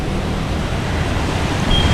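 Floodwater surging through a flooded street in Alibaug, lined with shops on both sides, where cars sit half submerged; a steady, loud, broadband rushing wash with no break and no voices.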